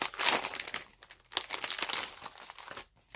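Paper envelopes with clasps being opened, giving bursts of close, loud crinkling and crumpling paper with short pauses between handling movements.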